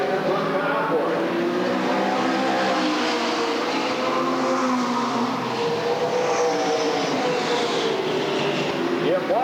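Dirt track race cars roar down the back straightaway at Redwood Acres Raceway, several engines droning loudly together with rising and falling pitch, steady and close throughout, with a commentator talking over them.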